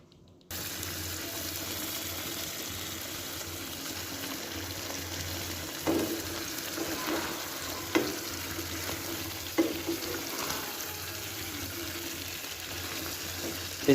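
Chicken feet frying in masala in a pan, with a steady sizzle throughout and occasional clinks and scrapes of a spoon stirring, fairly close and with no talking.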